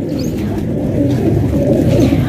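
A collection of fancy pigeons coos in a close, continuous murmur of low, overlapping throaty calls from several birds, with no voices.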